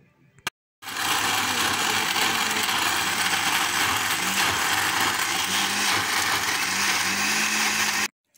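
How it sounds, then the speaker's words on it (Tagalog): A blender whirs loudly and steadily for several seconds, its motor grinding through orange and lemon, starting abruptly after a click and cutting off sharply. "nilagay ko sa blender at i-blend natin hanggang sa maging"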